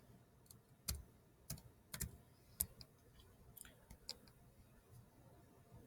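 Quiet, sparse keyboard typing: a handful of separate key clicks and taps spaced irregularly across several seconds, close by, with no talking.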